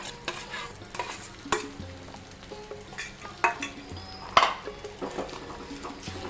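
A spoon stirs a mashed potato mixture in a pan for bread pakora filling, with soft scraping and irregular knocks against the metal under a light sizzle, fairly quiet and close.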